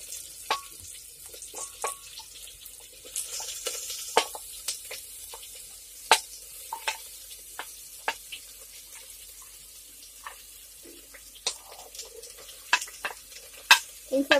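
Potatoes, pumpkin and mixed vegetables frying in a pan for a Bihari mixed-veg dish: a soft, airy sizzle broken by scattered spatula scrapes and clicks, with sharper knocks toward the end.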